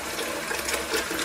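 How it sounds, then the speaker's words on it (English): Tap water runs steadily over a cyanotype print during rinsing, a constant broadband splashing hiss at moderate level with no talk. "So we'll let the water go on"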